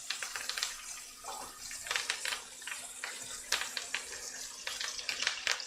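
Herbs and garlic dropped into a hot frying pan, giving a soft, close crackling sizzle with irregular spitting pops and some faint stirring.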